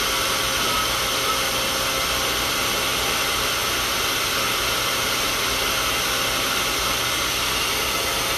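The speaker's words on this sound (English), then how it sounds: "So I put it on warm, on high volume and warm." A hair dryer blows steadily on its high, warm setting, a loud, close, unbroken rush of air with a low motor hum underneath, running alone without any talk.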